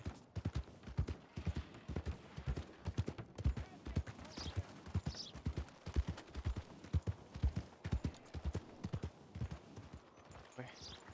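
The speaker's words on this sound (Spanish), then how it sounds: "Eso sí es un caballo." Horse hooves clip-clopping in a steady, rapid trotting rhythm in a western roleplay game, fairly close and continuous, with brief faint higher calls that may be a whinny.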